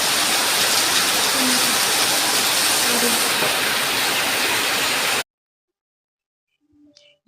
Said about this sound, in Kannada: ತುಂಬ ಜೋರಾಗಿ ಮಳೆ ಬರ್ತಾ ಇದೆ